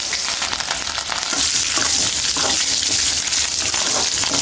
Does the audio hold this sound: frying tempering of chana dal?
yes